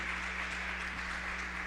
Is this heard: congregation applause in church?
yes